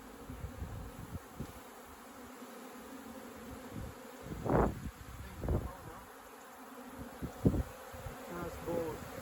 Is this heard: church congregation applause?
no